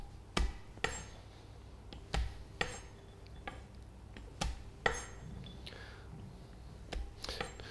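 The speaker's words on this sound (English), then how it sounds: "going to lightly give them a tap on the board with a knife, just to gently crush them down" Nuts are tapped with a knife on a board to crush them, a series of about eight sharp, irregularly spaced knocks against quiet background noise.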